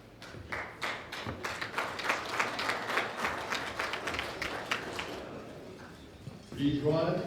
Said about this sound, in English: Give a big noise and clap for these great champions